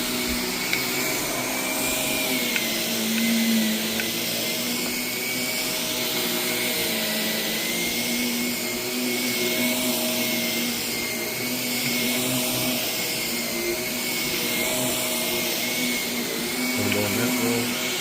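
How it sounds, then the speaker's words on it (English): A vacuum cleaner runs steadily over heavily soiled, high-traffic carpet, a loud continuous motor whine that holds nearly constant, with no talking. "I like to vacuum over these high traffic areas myself, just so I can get as much dry soil out as possible"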